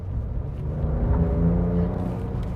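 A Ford Ranger Raptor's 3-litre V6 twin-turbo petrol engine, rated at 292 kW, growls with a steady, loud low rumble that swells slightly mid-way, heard close up with no talking.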